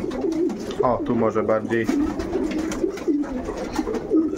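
Pigeons coo repeatedly in a loft during pairing season, with soft, rolling, throaty calls close by, while someone talks over them.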